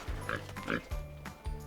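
A pig oinking on a farm in a short run of close grunts, some low and some higher-pitched, with no talk.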